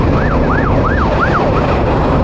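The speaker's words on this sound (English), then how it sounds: "There's an ambulance coming." An ambulance siren wails in repeated rising and falling sweeps, heard from a motorcycle, loud and steady over a constant road rumble, with no talking.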